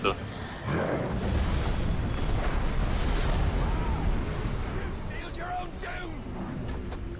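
Monument crumbling in the Middle-earth: Shadow of War video game, a loud sustained rumbling roar of collapsing stone and debris with scattered bursts, someone talking over it.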